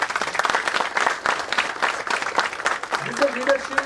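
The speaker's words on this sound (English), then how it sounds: "so give him a round of applause" Audience applause at a members' gathering, a busy, moderately loud patter of clapping with crowd murmur, and voices talking over it near the end.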